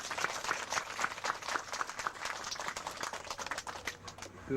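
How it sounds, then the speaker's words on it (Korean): A congregation at a church groundbreaking service gives a round of applause, many hands clapping in a dense, uneven patter that holds steady for several seconds at moderate distance. "박수 한번 하시죠"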